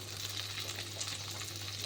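Onion sprinkled onto uttapam batter on a hot pan sizzles in a soft, steady crackling hiss, close but fairly quiet, with a low constant hum underneath.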